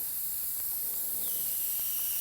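Compressed air from a spray gun hissing steadily over a fresh coat of candy red paint, a continuous close, even rush of air with no breaks.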